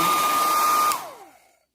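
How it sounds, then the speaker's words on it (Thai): A hair dryer blowing freshly washed hair, a loud steady close whir with a fixed tone that cuts off and winds down over about half a second, alone without talk. "สระผมเสร็จแล้วก็เป่าผมนะคะ"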